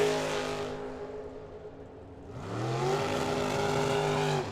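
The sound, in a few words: Camaro drag racing down the track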